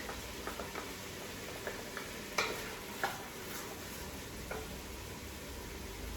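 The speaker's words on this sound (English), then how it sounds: "So I'm gonna let this saute until it's translucent" Aromatics sauté quietly in a pan, a faint, even sizzle with a few light ticks and taps from stirring scattered across it and no voices.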